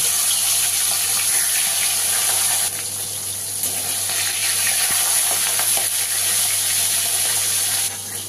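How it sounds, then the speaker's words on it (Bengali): A hilsa fish head fries in hot oil in a wok, giving a continuous loud sizzle with a bright hiss that stays steady apart from a couple of brief dips and small clatters. "মাছের মাথাটাকে আমি ভেজে নেব"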